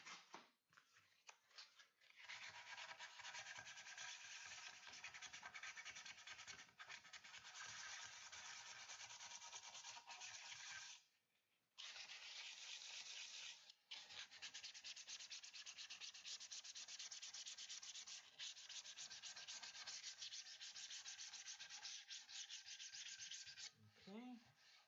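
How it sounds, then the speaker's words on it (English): Steady scratchy rubbing of sandpaper worked back and forth over a surface, close and continuous for most of the stretch, broken by a couple of short pauses, with no voices. "Also need sandpaper."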